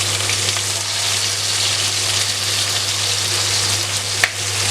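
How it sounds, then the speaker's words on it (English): Garlic and fresh ginger fry in hot oil for a crispy sweet and sour pork dish, a steady close hiss of sizzling with no talk and one brief clink near the end. "I'm going to only fry this round for like about a minute, just to take the rawness out of the garlic and the ginger"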